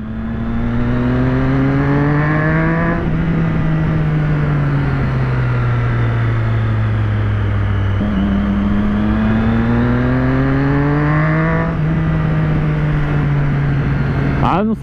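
A loud three-cylinder Yamaha motorcycle engine revs hard and steadily, its pitch rising and falling through repeated gear pulls, close by and continuous.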